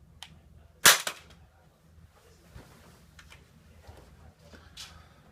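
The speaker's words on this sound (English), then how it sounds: "We're going to drop this from about 2 meters to simulate a very high fall." A Glock pistol with its trigger cocked is dropped from about 2 meters and fires on impact, giving one sharp, loud crack followed by a brief clatter and faint scuffs in a quiet space.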